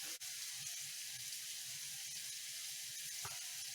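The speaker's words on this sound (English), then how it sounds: "And now the pan is sizzling in earnest" A pan sizzles steadily with a constant hiss while asparagus quarters cook, the frying loud and alone, with a faint clink near the end.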